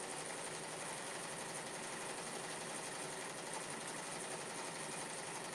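An embroidery machine stitches a white satin border around a flower, giving a faint, steady mechanical whir with a fast even needle rhythm and no talk.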